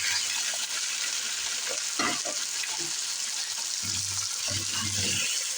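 Onions with salt fry in a pot for chicken nihari, a steady close sizzle broken by a few scraping stirs of a spoon against the pan.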